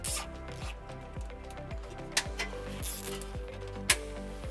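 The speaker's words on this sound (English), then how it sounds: "And we'll use some zip ties to secure our wire underneath." Zip ties are pulled tight to secure trailer wiring under a 2015 Toyota RAV4, making a run of quick, faint ratcheting zips with a couple of sharp clicks.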